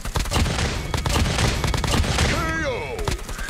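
Rapid bursts of ICR-1 rifle gunfire ring out in Call of Duty Mobile gameplay, a dense stream of shots with a short whistling effect near the end.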